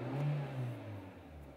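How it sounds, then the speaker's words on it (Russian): A Renault Logan Stepway 2WD with automatic transmission has its engine revved briefly, a quiet rising and falling hum heard from inside the car, with short swells of pitch. "Немного погазуем."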